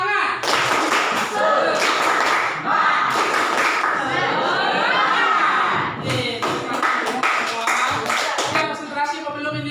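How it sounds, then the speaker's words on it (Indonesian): Schoolchildren in a classroom doing a rhythmic spirit clap, with bursts of patterned clapping and thumps interleaved with children's voices chanting along, lively and close. "Biar lebih semangat, kita melakukan tepuk semangat"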